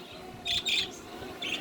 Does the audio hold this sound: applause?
no